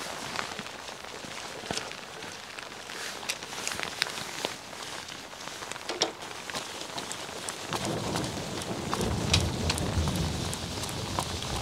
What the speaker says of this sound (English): It's just been raining on and off all day long